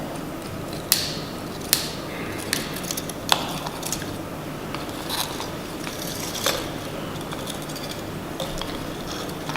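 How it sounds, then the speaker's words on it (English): Snipping and clicking of pliers cutting wires away from a burnt metal casting mould, a series of sharp clicks spread over a steady mechanical background, close and moderately loud. "That's why I'm using the pliers instead of my hands. But we can cool it down quite quickly, so I'll just cut my wires away."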